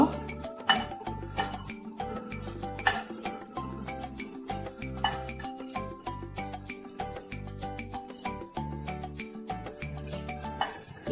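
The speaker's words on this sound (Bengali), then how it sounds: "আমি উপকরণগুলো মিশিয়ে নিব" Yeast, salt and other bread ingredients stirred together in a bowl, with a steady run of soft scraping and clinking strokes over faint background music.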